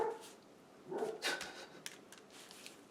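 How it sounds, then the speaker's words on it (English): Dogs barking near a back door, heard as a few short barks and yelps against a quiet indoor background, with a faint shuffle and no speech. "since they're going to bark, they might as well do it outside, right?"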